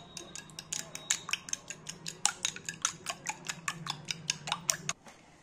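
Eggs beaten briskly with salt and pepper, a steady run of quick, close clicking taps from the whisking, about twenty strokes in an even rhythm that stop near the end.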